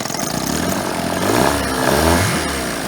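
A Chrysler outboard motor on an inflatable boat runs steadily close by, its throttle rising and falling in smooth swells with a rough mechanical clatter underneath.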